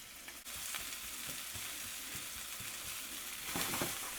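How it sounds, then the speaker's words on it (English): Onions sautéing in oil in a pan give a steady close sizzle with soft stirring scrapes, heard alone. "A little bit more oil. And let's get our onions sauteed just a bit."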